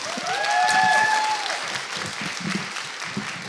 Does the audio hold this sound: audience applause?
yes